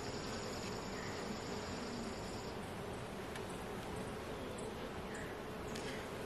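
Honey bees drone in a dense, steady hum around an open hive while the beekeeper splits off frames of bees to raise new queens, a continuous insect buzz with no talk.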